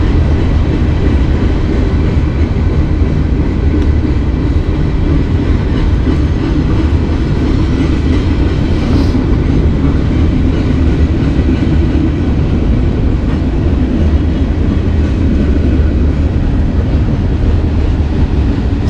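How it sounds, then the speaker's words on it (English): A long freight train rolls past close by in Lakewood, Ohio, with a loud, continuous rumble of wheels and cars and a steady rhythmic clatter that carries on without a break. "So it's a nice long train though."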